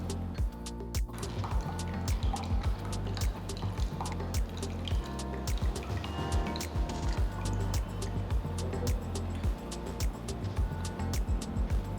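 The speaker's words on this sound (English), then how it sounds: "Pour it through a sieve to remove any fibers present in the juice." Mango juice is poured through a kitchen sieve, giving a steady liquid trickle and dripping with frequent small splashes that run continuously at close range.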